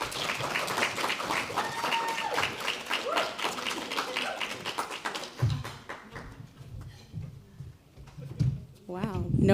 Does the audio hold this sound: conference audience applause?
yes